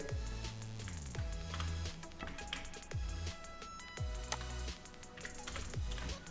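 Someone types quickly on a computer keyboard in bursts of crisp clicks and key taps, with short pauses between runs, close by and with no voices.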